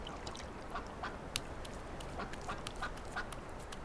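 Ducks on winter ponds in a nature reserve, with scattered faint quacks and calls repeating at a distance over a steady background of water and wind.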